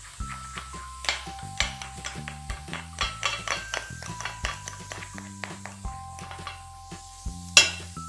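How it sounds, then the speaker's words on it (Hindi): A bleach paste mixed with Eno is stirred briskly in a bowl for foot whitening, a steady run of close scraping and clinking strokes with a louder clink near the end; a faint background tone hums throughout. "ईनो को ऐड करके दोस्तों अब इसे अच्छे से मिलाएंगे।"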